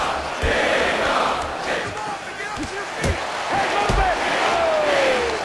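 A fight-night crowd cheers and shouts around a grappling bout, a steady roar of voices punctuated by thuds and slaps from the mat, with an announcer's voice over the noise.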